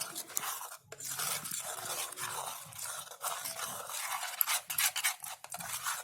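Gulgule batter is mixed by hand in a bowl, producing close, irregular scraping and clinking strokes against the vessel in short repeated bursts with small pauses between them.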